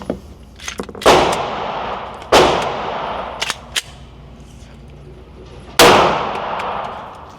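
Gunshots from an HK VP9 pistol with an upgraded trigger, fired one-handed on a range: four loud, sharp reports spaced unevenly, with a couple of fainter clanks between them and ringing decay after each shot.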